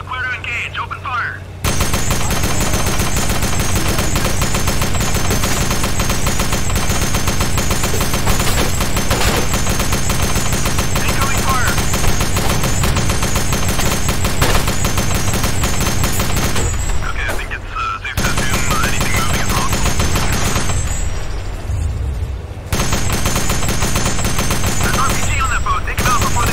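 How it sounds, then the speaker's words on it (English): Sustained gunfire from a squad firefight in the military shooter game Delta Force Xtreme 2, loud and dense across most of the span with a few brief lulls, and voices breaking in now and then. "We got incoming rounds. Clear to engage. Open fire."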